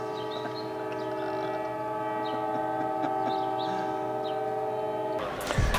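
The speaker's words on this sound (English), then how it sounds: "The train just wouldn't stop." A train passing through a city, with a steady loud rumble and a sustained tonal horn-like drone lasting throughout, ending in a sudden rustling burst close by.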